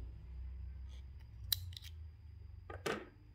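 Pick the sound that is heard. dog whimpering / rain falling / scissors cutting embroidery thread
scissors cutting embroidery thread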